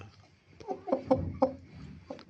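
A few soft, short clucks from chickens and a moulting rooster sound close by in a quiet space, spaced irregularly.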